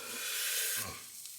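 Pork sizzling in a hot frying pan, a bright faint hiss that swells and then drops off briefly with a soft clatter before settling to a quieter fizz.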